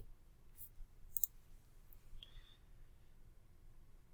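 A computer mouse gives a few sharp, quiet clicks in a near-silent room, two close together early on and another shortly after, with a faint brief tone near the middle.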